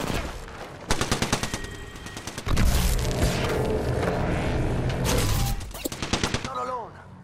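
Automatic weapon fire from an Apex Legends firefight, rapid bursts of loud shots, then a long sustained barrage, then more clipped bursts, with a voice talking briefly in between.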